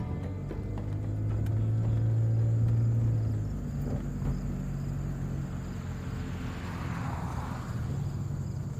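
A car drives along, giving a steady low engine rumble and droning hum that swells and fades slightly, with faint insect chirping in the background and no voices.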